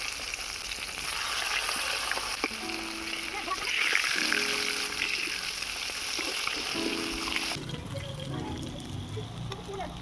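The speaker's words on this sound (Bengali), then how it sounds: "মাছগুলোর একটা সাইড ভালো করে ভাজা হয়ে গিয়েছে আর একটা সাইড আমি ভালো করে ভেজে নেব" Fish pieces frying in hot oil in a pan, a steady broad sizzle running throughout with small bubbling changes as the pieces are turned, speech audible over it.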